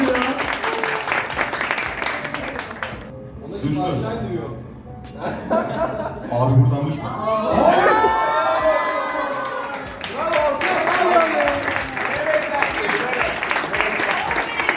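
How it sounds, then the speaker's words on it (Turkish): A crowd applauds and cheers with scattered laughter, steady and fairly loud, while voices talk over it. "Alkış ya."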